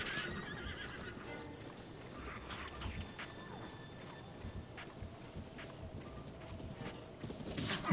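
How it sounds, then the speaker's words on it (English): A horse in Zelda: Breath of the Wild whinnies amid outdoor game ambience, with a couple of neighs and light hoof clip-clop sounds over a soft, steady background. "there's a horse"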